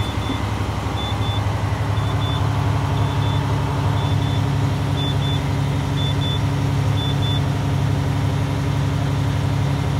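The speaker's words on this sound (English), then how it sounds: "My buzzer is working properly" A Volvo truck's low air alarm buzzer sounds in regular double beeps, repeating steadily over the low rumble of an idling diesel engine.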